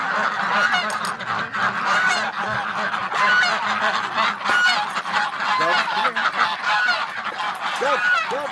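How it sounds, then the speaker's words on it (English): A flock of ducks being let out of their pen in the morning, a dense, continuous chorus of loud honking quacks close by, with a voice briefly in the background. "Let's let the duckies out."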